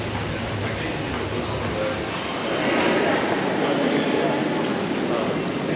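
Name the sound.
train arriving at a platform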